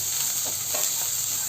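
Chopped spinach stems are stirred in a frying pan, a short burst of close sizzling with light scraping of the spoon through the hot oil.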